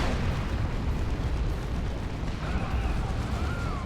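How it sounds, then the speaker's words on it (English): Rocket run explosions in a Dawn of War 2 3v3 battle, heard as dense, continuous rumbling blasts and booms with crackling bursts. "That's a rocket run."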